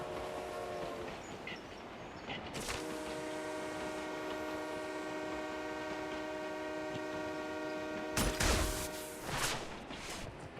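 A video game train rolls past with a sustained multi-tone horn blast over steady rumbling wheels, followed by a loud burst of rail clatter near the end; no voices.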